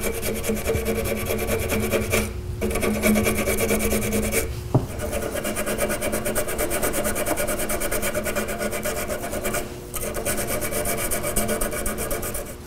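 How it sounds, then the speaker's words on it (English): Sandpaper rubs down a welded joint in 3D printer filament, giving a close, steady rasping that runs almost continuously and breaks off for two short pauses. "I find it's easier just to sand this down just a little bit"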